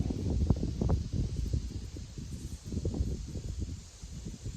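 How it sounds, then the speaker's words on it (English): Gusty wind buffeting the microphone in uneven low rumbles while planting a garden raised bed, steady for several seconds with no voices. "It's windy today, so it's a little tricky"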